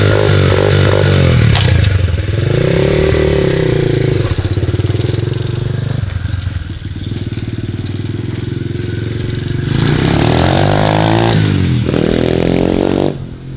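A small 125 cc motocross bike won at a fair revs loudly and continuously nearby, its engine rising and falling through several throttle blips with rattling, scraping mechanical noise.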